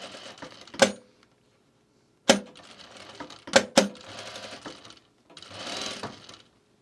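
Home sewing machine running a gathering or easing stitch on very stretchy fabric, in several short bursts of rapid mechanical clatter separated by pauses, with a sharp click at the start of each run.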